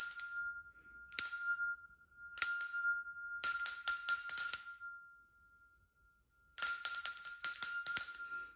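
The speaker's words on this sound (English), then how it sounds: "asked where these bells came from" Meditation bells ring in separate bright strikes, first single chimes then quick clustered rings, each fading out, with a long silent gap before a final burst of ringing.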